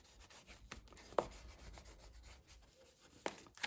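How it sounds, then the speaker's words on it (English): Soft, close rubbing and scraping of a bone folder burnishing a paper clip down onto paper, a steady quiet friction with a few sharper taps, no voices. "I use a bone folder to really burnish that down and get all into those nooks and crannies"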